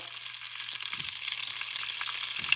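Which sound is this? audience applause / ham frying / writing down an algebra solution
ham frying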